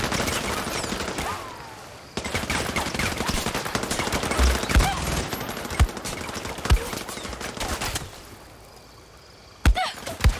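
Enemy gunfire in the action shooter Far Cry 6, a dense crackling fusillade of overlapping shots lasting several seconds with a few louder nearby cracks, then easing off before a final pair of sharp reports.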